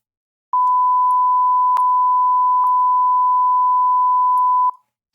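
A REAPER tone generator produces a single steady, loud electronic beep lasting about four seconds, alone in silence.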